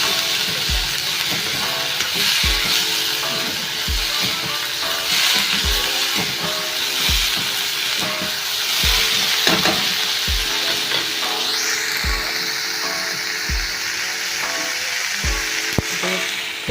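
Red onion fries in a pan for a cluster bean dish, giving a steady, close sizzle with regular soft knocks of stirring about once a second.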